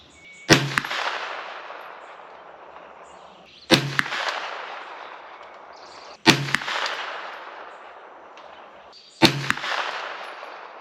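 Four sharp, loud gunshots from an Aero Precision EPC 9mm carbine firing factory ammunition at an outdoor range, spaced a few seconds apart, each followed by a ringing echo that decays slowly.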